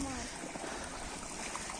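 A small spring fitted with a built-in outlet trickles steadily, a soft continuous flow of running water with faint voices in the background.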